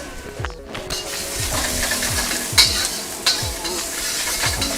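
Garlic, ginger and green onion whites sizzle loudly in a wok for lap cheong fried rice, tossed with a rhythmic series of scraping strokes and a couple of sharp metallic clinks over the constant frying hiss.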